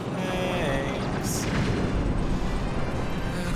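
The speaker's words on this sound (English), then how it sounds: "Boom! Big explosion." A big explosion in the Star Fox 64 video game, a dense sustained roaring rumble that fills the whole stretch at steady loudness, with a brief bright hiss near its start.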